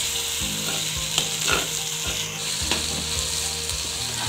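Turkey berries, onion and tomato sauté in a pan for a tamarind broth, with a constant close sizzle and regular stirring scrapes and taps running through it, and no voices.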